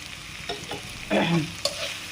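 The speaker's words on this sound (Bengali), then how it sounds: "পেঁয়াজ, রসুন আর কাঁচা ঝাল ভেজে নিচ্ছি ভালো করে" Onion, garlic and green chili frying in hot oil with ground spices, a steady close sizzle with bursts of louder crackling and stirring scrapes, no talk.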